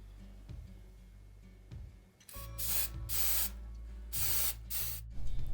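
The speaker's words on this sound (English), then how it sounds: "I went ahead and hit it with a bit of the spray glue" Spray glue hisses onto a ready-made sagebrush piece being turned into a diorama tree, in several close, airy bursts of a few seconds each after a quiet start.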